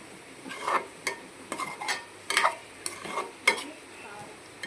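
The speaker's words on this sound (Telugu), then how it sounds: "మనం ఉల్లిపాయలు వేగనిద్దాం" Thinly grated onion pieces frying with whole spices in a pan for a mutton keema chicken curry, making a soft continuous sizzle broken by repeated scraping stirs and light spatula taps.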